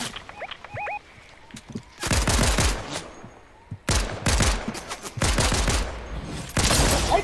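Rapid gunfire bursts in a Fortnite Duos match, including pump shotgun fire, come in several loud close volleys separated by short quieter gaps with faint game effects and beeps between them.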